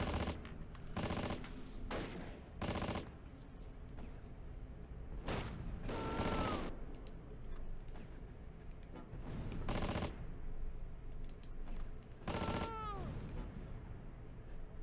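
Gunfire in the Close Combat World War II strategy game, repeated bursts of rapid shots separated by brief pauses, with faint whistling tones between volleys, no talking.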